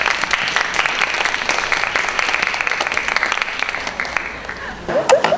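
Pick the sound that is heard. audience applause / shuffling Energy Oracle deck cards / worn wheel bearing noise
audience applause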